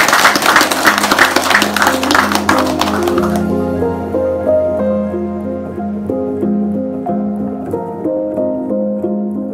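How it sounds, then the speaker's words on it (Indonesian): Applause from a gathering of the Akit community at a Pelalawan regional election outreach event, dense clapping for about three seconds before fading out under music that continues to the end. "Tepuk tangan buat masyarakat Akit"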